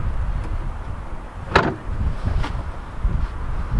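A door in a makeshift blacksmith workshop opens and closes, giving a short sharp knock or clack midway and a softer bump a moment later over steady low background rumble, with no talk.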